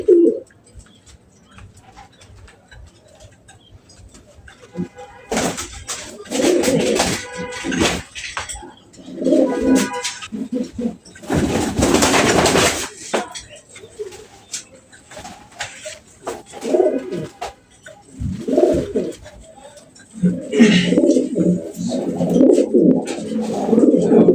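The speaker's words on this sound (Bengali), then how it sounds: "এই যে এটা হচ্ছে তিন নাম্বার কবুতর" Pigeons coo in loud, close bursts separated by quieter gaps, with deep rolling calls, flapping bursts of handling or wings, and some faint background sounds.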